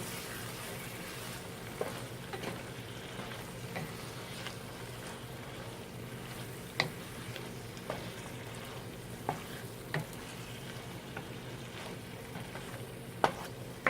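Ground beef stew being stirred and combined in a pot, with a soft steady simmer and sizzle broken by occasional light scrapes and clinks of the spoon.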